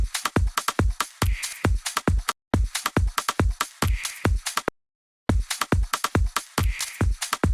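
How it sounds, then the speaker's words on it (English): Rapid glitchy clicks stutter in fast, uneven bursts, cutting out abruptly into short silences before resuming. "There's some sort of clicks happening here."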